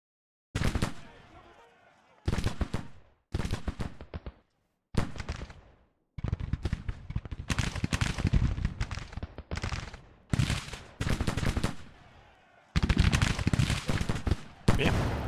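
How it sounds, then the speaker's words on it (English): Rifles crack in repeated bursts as skirmishers trade fire in the strategy game Grand Tactician: The Civil War. Short clusters of shots are broken by brief silences, and a longer stretch of sustained firing comes in the middle. "It's mostly just skirmishers, just exchanging shots at this point."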